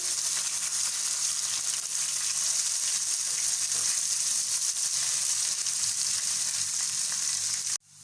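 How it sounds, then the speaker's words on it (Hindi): Ginger garlic paste fries in a pan, a loud, continuous sizzle held steady for several seconds before cutting off abruptly near the end, with no speech. "अब हम इसमें अदरक लहसुन का पेस्ट शामिल कर देंगे। इसको हम थोड़ा सा भून लेंगे।"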